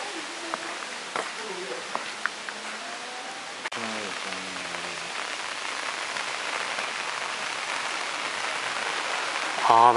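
Steady rain pours onto surfaces outdoors at a Kyoto shrine, a dense continuous hiss throughout, with brief voices and footsteps faintly mixed in.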